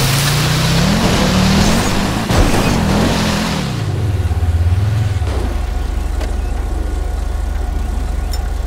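A Wagon R engine in GTA 5 drones and revs while splashing through mud water, pitch rising and falling over several seconds, then the sound drops to a lower, steady idle-like hum.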